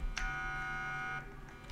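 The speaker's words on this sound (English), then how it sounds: "Alarm is going off, so we gotta turn off the alarm." A Roblox game alarm sounds as a steady electronic tone lasting about a second, then cuts off, followed by faint further beeps; quiet overall with no talk.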